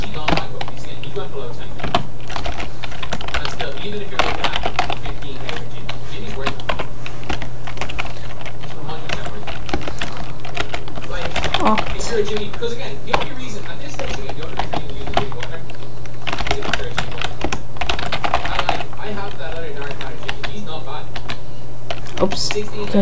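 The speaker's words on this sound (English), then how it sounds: "I'll just keep typing." Rapid, uneven clatter of keys on a computer keyboard while entering Python code, steady and close throughout with a low electrical hum beneath and occasional speech.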